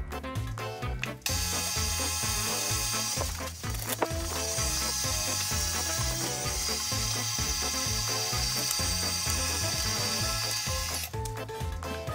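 Stand mixer kneading Detroit-style pizza dough, a steady motorized whir with a rhythmic thumping pulse as the hook turns, loud and continuous with no talk.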